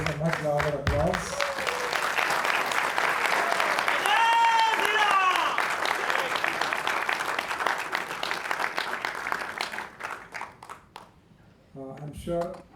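An audience at a book release applauds after a speech with a broad wash of clapping that swells and then thins out, while voices talk over it near the start and again as it fades.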